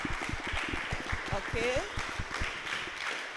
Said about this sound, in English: Let's have a round of applause for everybody here.